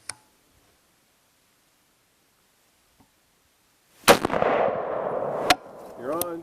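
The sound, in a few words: rifle shot fired while zeroing SpecterDR scope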